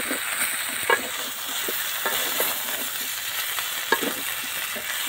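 Meat coated in spices stirred and frying in a pan, a steady sizzle with intermittent scraping taps of the stirring utensil and no talking.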